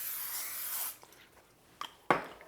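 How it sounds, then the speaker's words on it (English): Nonstick cooking spray is sprayed into a 9x13 baking dish: a single close, hissing burst lasting about a second, followed by quiet and a couple of faint clicks and knocks. "Nonstick cooking spray."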